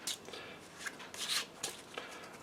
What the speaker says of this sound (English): the scoring cards, what we need to do with those is just give them a little shuffle